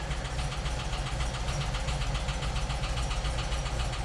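A 1988 VW Vanagon engine running with a possible misfire after a tune-up, a steady low rumbling idle with a rapid pulsing beat, close and continuous with no talk.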